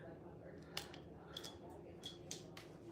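Scissors snip the tag end of a fishing leader line, several quiet short cuts at close range, with faint low talk underneath.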